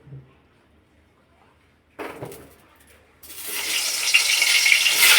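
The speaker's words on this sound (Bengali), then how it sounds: "তেলটা গরম হয়ে গেছে, বেগুনটা ছেড়ে দিলাম।" After a quiet moment and a clatter, a loud sizzling hiss bursts out as eggplant hits hot mustard oil, swelling and crackling steadily.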